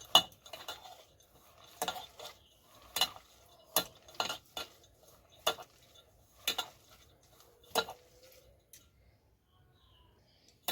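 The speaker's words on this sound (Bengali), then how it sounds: "এবার সব কটা একসাথে ভালো করে মাখিয়ে নেব" Soaked whole red lentils being mixed together in a bowl, a string of soft, irregular clinks and wet scrapes spaced about a second apart, close and fairly quiet, fading out at the end.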